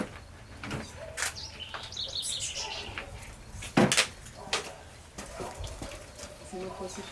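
Birds chirping outdoors near a road with trucks, faint scattered tweets under light background noise and some nearby knocks, with people talking quietly.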